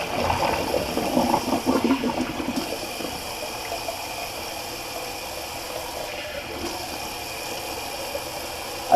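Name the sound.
cold water rinse from tap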